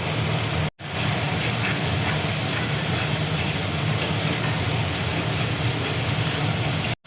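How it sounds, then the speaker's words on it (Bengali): Water splashed into hot spice masala in a pan, a loud continuous steamy sizzle and hiss filling the whole stretch, close and unbroken apart from two brief cuts. "অল্প করে দেখো জল দিচ্ছি, নাহলে মশলাটা পুড়ে যাবে"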